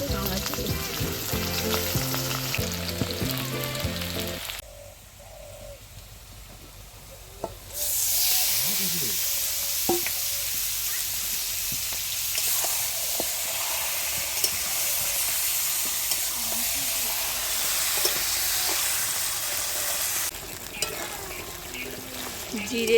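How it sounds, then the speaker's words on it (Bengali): Red meat browning in a pan for a family picnic meal, with loud, steady frying sizzle running throughout, briefly quieter near the middle while the meat is stirred, with occasional scraping and clinks. "আর একটু কষানো হচ্ছে লাল মাংস এবার ব্রাউন কালার হয়ে গেছে"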